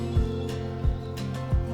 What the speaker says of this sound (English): That's a well pump for natural gas or oil.